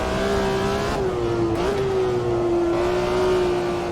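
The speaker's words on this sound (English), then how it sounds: "when you get a car that sounds as good as this, you appreciate the downshift just as much as the acceleration" A race car engine in the racing game Automobilista 2 holds a loud, steady high rev, dipping briefly as it downshifts and then climbing back, close and continuous with no speech.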